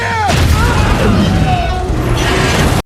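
A grenade blast in the film Ride Along, a loud booming burst with crashing debris and a shouted voice that holds for about three seconds before cutting off abruptly.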